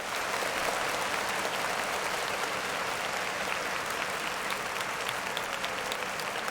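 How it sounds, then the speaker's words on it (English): Sustained applause from a group during a courtroom-case commentary broadcast, steady and even throughout, heard at a moderate distance with no speech on top. "Clap it up for Street TV."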